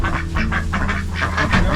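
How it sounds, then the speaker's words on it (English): Several farm ducks quack close by in a rapid, overlapping chorus of short, loud nasal calls that continue without a break over a low background hum. "Come on, you ducks."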